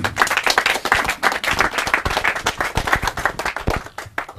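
Steady applause from a crowd, dense clapping running throughout without pause.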